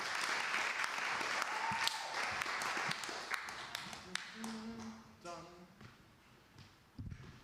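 A comedy-club audience claps after a stand-up set, a moderate burst of applause that thins and fades out, with scattered claps and a voice heard near the end.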